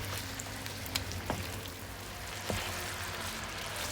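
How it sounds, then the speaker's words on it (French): Caramel ginger chicken sauce bubbling in a pan, a soft steady sizzle and fizz with a few small pops and splutters, close and fairly quiet, with no voices. "Le caramel reprend de l'ébullition, il s'évapore un peu et on obtient une sauce toute nappante"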